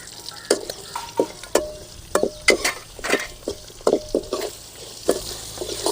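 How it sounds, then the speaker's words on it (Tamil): Greens crackle and sizzle in hot oil in a pan during South Indian cooking, with irregular sharp pops and spits over a soft steady frying hiss, up close and with no talking. "கீரை நல்லா பொரியுது"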